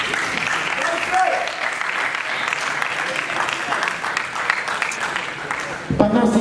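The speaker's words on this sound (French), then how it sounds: "on applaudit s'il vous plaît." Audience applause during a student debate on literary prizes, a broad, steady wash of many hands clapping that carries on for several seconds before a voice cuts in at the end.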